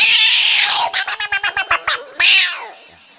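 A man imitates two cats yowling and fighting on a rooftop, making a loud drawn-out wail, then a rapid series of about ten pulsing meows, then a final shrill yowl that fades away, with no other talk.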